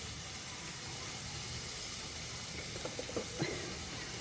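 Vegetables sauté in olive oil in a pan, giving a steady broad sizzling hiss throughout, with a few faint clinks and stirring sounds near the end.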